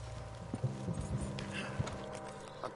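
A spooked horse's hooves clop on hard ground in a few uneven steps in a PS4 video game, quiet and fairly close, over a low steady background hum.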